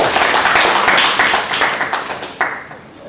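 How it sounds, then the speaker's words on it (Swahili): An audience claps at a formal ceremony where a foundation hands over donated funds for children, a dense burst of many hands that is loud at first and thins out over three seconds, with a few scattered claps at the end. "Naomba tuwapigie makofi."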